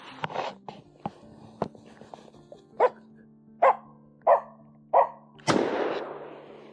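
A Finnish Spitz gives a series of sharp, nearby barks while hunting in wet conditions, spaced about a second apart, ending in one louder, longer bark.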